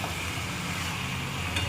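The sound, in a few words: mutton being sautéed in a pan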